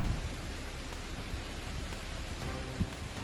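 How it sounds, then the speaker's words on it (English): Hailstorm during a violent Bulgarian storm pounding a parking lot full of vehicles, a dense, steady roar of hard impacts with no pauses, fairly loud and continuous throughout. "The hailstones fell at an alarming speed, creating a deafening drumbeat across the lot."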